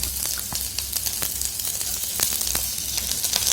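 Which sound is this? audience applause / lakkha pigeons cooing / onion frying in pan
onion frying in pan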